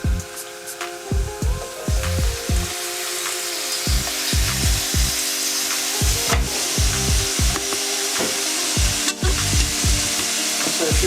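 Minced meat fries in a pan with garlic while a utensil scrapes and stirs it in steady, repeated strokes over continuous close sizzling, with no talk.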